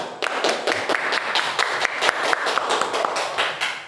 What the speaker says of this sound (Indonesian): Silakan diberikan aplaus untuk kelompok yang sudah tampil